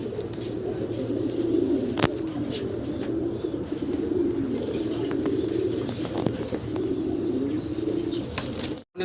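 Pigeons coo steadily in a repeating, rolling murmur close by, with a few sharp clicks and rustles mixed in.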